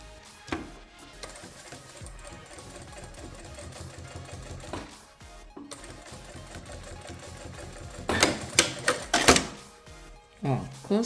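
A sewing machine runs steadily, stitching bias binding along the edge of a fabric document holder, its whirring motor and rapid needle clatter continuing for several seconds between short stops, followed by a few louder bursts of fast stitching near the end.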